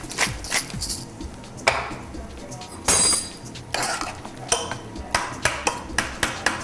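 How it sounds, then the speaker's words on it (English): A spoon scraping and clanking inside a pot of zucchini soup, with repeated metallic knocks against the rim and sides in an uneven rhythm, close and fairly loud. "We need to stir this zucchini soup"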